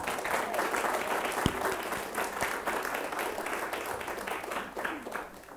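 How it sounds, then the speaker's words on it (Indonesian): Dense, steady applause from a large audience at a high school competition final, many hands clapping together at an even level throughout, with no voices standing out. "Finalis satu adalah tepuk tangan untuk kelompok Adi Pramana, SMA 1 Banjaran Bandung."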